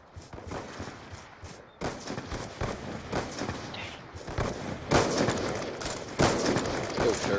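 Rapid video game gunfire, bursts of sharp shots and automatic volleys coming in clusters with brief pauses, loud and close.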